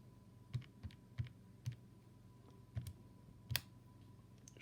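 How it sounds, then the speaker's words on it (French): Calculator keys being pressed in a quiet room, a handful of soft, separate clicks spaced irregularly over a low steady hum, close and faint. "Si je tape ça à la calculatrice"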